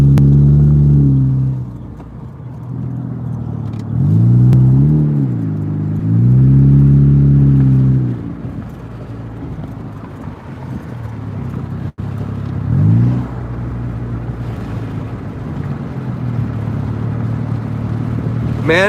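Car with an automatic transmission cruising on the road, a loud, close engine drone with rising and falling pitch as it shifts and accelerates, over steady road rumble and a brief thump.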